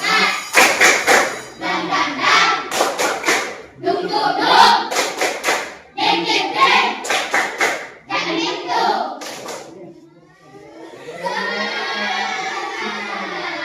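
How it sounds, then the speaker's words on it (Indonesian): A standing classroom audience claps in a few short rhythmic bursts separated by brief pauses, with voices chanting along, and a steadier wash of clapping at the end. "Tepuk tangan."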